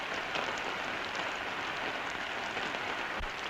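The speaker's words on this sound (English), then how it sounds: "It's still raining." Rain falls steadily on a farm, a constant, close wash of patter and hiss with no clear pauses, no voices, and a brief low thump near the end.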